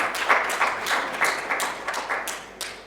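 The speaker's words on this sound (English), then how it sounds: "Please welcome him with a big applause" Applause rises from a literature festival audience greeting an author onto the dais: steady, fairly distant clapping with sharp individual claps standing out, continuing evenly with no talk.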